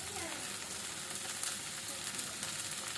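Black cumin seeds sizzle in a cast iron kadai while pumpkin bhaji is cooked, a quiet, even frying hiss with faint stirring scrapes, steady and uninterrupted.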